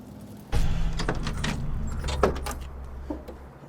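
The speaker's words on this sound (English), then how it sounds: "these doors open phenomenally." Door of a restored 1969 Chevrolet Camaro Z28 opens with a sudden close mechanical clunk, followed by a light metallic rattle and a few faint clicks.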